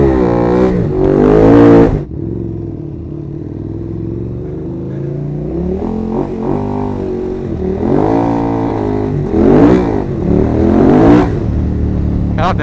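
A motorcycle engine revving under throttle, close and loud, with two sharp rising revs at the start and later, joined by a steadier droning run of rising and falling engine pitch in between.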